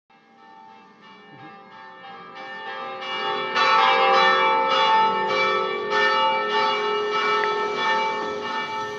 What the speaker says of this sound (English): I'm woken by one of the many traditional peals from the towers of bells around the marina.